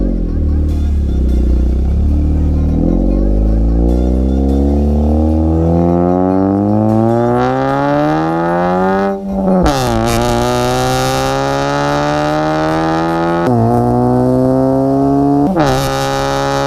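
A Honda Brio Type R with a racing exhaust and the Valvetronic valve open revs hard repeatedly, the engine note climbing in long rising sweeps, dropping, then surging again, loud and close.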